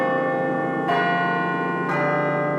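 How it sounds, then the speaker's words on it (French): A church bell in the small brick village of Burbure in northern France rings out with two clear strokes, each leaving a long, rich, sustained hum that fills the space between them. "Le son de cloche de l'église traverse les murs de briques de la petite bourgade de Burbure."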